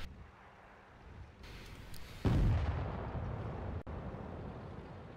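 A single heavy tank cannon shot booms in a World of Tanks battle, with a deep, loud blast that rumbles and decays over a couple of seconds against steady engine noise, followed later by a sharp metallic crack.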